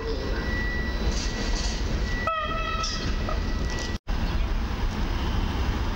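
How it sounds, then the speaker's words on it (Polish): Passenger train hauled by EU47001 electric locomotive arrives at Warszawa Zachodnia station, a loud continuous rumble of wheels with a brief horn-like tone and rail squeals midway, close by. "Przyjechał EU47001 z pociągiem osobowym z Siedlec."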